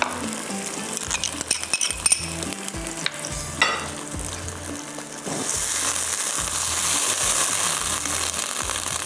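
Ginger and garlic frying in a pan for fish pulao: loud steady sizzling close by, with a utensil clinking and stirring through the first half before the hiss swells and continues alone.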